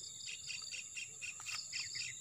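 A parent kingfisher repeats short, high chirping calls near its fledglings, the bursts coming in a quick irregular series, moderately close against a steady insect-like outdoor hiss with no speech.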